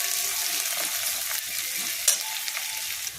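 Chopped onion sizzles steadily in hot oil in a pan while it is stirred, with a soft scrape and clink of the spoon now and then, heard close and with no talking.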